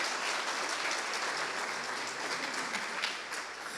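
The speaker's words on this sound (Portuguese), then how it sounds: "Salva de palmas para a família tão querida." A church congregation gives a round of applause for a beloved family, a steady wash of many hands clapping at a fairly faint, even level that tapers slightly near the end.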